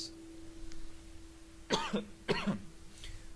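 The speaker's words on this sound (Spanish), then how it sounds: "la garganta o la tos me está queriendo afectar" Two sharp coughs close together, loud and near, followed by a fainter third cough, over a quiet background with a faint steady hum.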